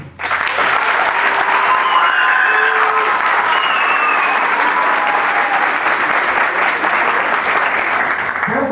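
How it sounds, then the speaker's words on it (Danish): A live audience claps loudly and continuously, a dense wall of applause with a few voices briefly rising above it, lasting several seconds before easing slightly. "Når vi siger et navn, så klapper I, hvis de mener, det er ham."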